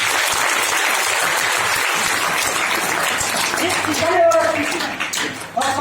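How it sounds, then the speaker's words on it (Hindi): Audience at a lively motivational talk in Kanpur breaking into loud, sustained applause that fills the room as a steady wash of clapping for nearly six seconds, with some voices and cheers mixed in toward the end. "उनके लिए एक बार जोरदार तालियां"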